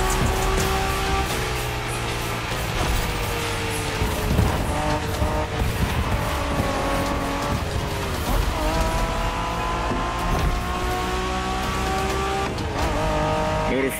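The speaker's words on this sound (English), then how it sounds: "We're going for some proper Japanese street racing." Japanese street racing cars roar through The Crew Motorfest, engines revving and shifting continuously with tire squeal and skidding, loud and close throughout with no pause.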